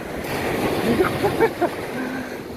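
Gulf of Thailand waves roll onto Nam Rin beach in Ban Chang, Rayong, giving a steady, close wash of surf with a few brief tonal bursts over the rushing water.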